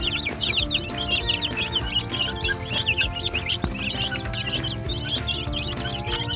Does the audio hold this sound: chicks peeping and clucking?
yes